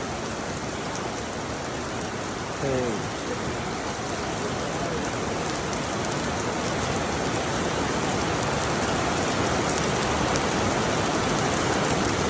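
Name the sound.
heavy rain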